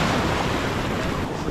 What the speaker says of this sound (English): This is my wave right here.